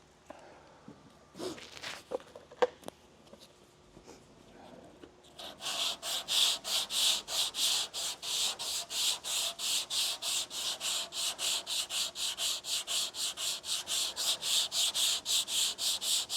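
220 grit sandpaper worked by hand over the body of a 1935 Packard, a few scattered knocks and handling sounds before a run of rhythmic back-and-forth rasping strokes, close and steady to the end.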